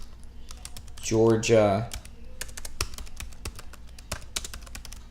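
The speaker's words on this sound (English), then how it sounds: "I'm going to type in pound serif font, curly bracket, enter, and I'm going to type in font family" Computer keyboard typing in rapid, irregular clicks, close and crisp, running through most of the span after someone briefly speaks near the start.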